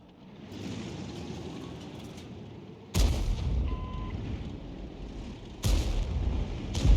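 Artillery guns firing in World of Tanks, two heavy booms a few seconds apart, each followed by rumbling decay over a low background drone, no voices.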